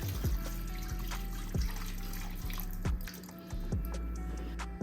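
Beef broth poured over oxtails in a pot, a close, continuous liquid trickle with repeated dripping plops.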